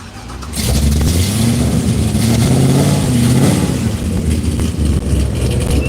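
Race car engine at a track event fires up and revs hard, a loud, steady mid-pitched roar with rising and falling throttle that holds close for several seconds.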